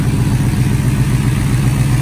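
A car used for delivering mail runs with a loud, close, steady low engine rumble that holds an even idle-like drone throughout, with no voices over it.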